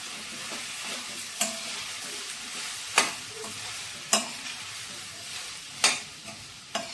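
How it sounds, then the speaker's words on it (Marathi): Ivy gourd pieces are stirred in a hot tempering in a pan, a low sizzle broken by four or five sharp spatula scrapes and clanks at irregular intervals, close and without talk. "हा आपण चांगलं हलवून घेणार आहोत."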